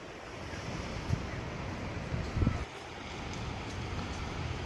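Ocean surf breaking along the coast at Point Lobos, California, a steady wash of wind-blown waves with a couple of louder surges, heard alone without talk.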